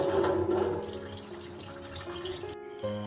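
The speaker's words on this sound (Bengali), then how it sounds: "রেখে দিয়ে জলটা ধুয়ে নেবো ভালো করে" Mung dal lentils being rinsed in a pot under running water, a steady close splash and trickle that cuts off briefly near the end before resuming.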